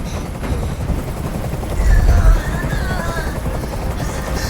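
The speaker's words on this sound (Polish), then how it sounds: "Nie mogę już znieść tego hałasu! Każ swoim odwołać helikopter!" A helicopter hovers nearby in the video game Detroit: Become Human, its rotor throbbing in a constant loud low drone that swells briefly midway, with faint background sounds beneath.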